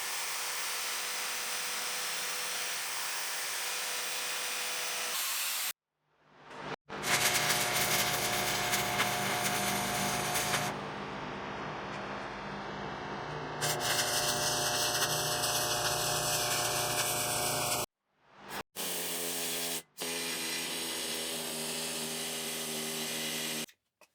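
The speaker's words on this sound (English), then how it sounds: "The needle scaler makes quick work of slag removal." A needle scaler knocks welding slag off a steel tractor storage box in several long bursts, giving a loud, dense, rattling chatter broken by short pauses, with no talking.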